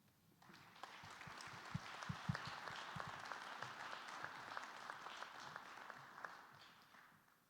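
A conference audience applauds in a hall after a CEO is introduced at a critical-infrastructure cyber resilience event, with steady clapping that swells quickly and fades near the end.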